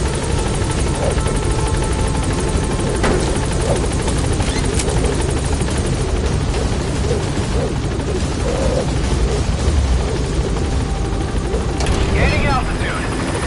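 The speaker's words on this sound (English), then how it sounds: "Board the chopper when you're ready for a mission." A military helicopter in Metal Gear Solid V: The Phantom Pain roars steadily and loudly throughout, with its rotor drone constant under scattered game sounds and voices.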